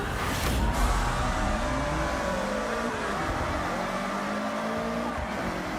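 Cars racing in the Forza Horizon 6 video game, a loud continuous engine roar with rising and falling revs and gear shifts, tire noise layered over a steady drone, no talk.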